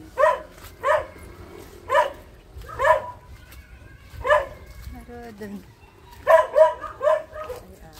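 A guard dog barks repeatedly in short bursts, fairly close, with a couple of quick yips near the end, while a person talks briefly.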